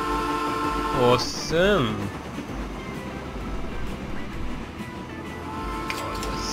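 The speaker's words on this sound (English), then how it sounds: "God, there's like constant trains as well." Constant train traffic on a busy rail line in the video game Train Fever, a steady rumbling background with brief horn-like tones early on, under a person talking.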